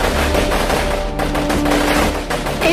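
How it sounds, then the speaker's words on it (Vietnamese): Rapid bursts of gunfire in an animated cartoon about a monster class rescuing Napoleon's villagers: a dense, continuous rattle of shots, loud and close, with no talking. "làm gì bắn gắt dữ vậy ba?"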